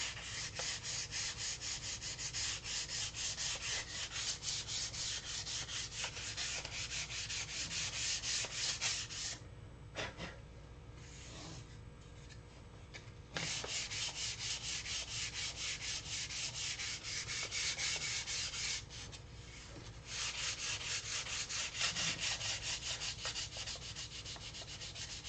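Wood being hand-sanded with 320-grit sandpaper while making a canopy for a large tucker, a steady close scratchy rubbing that runs almost without pause, with two short breaks in the strokes.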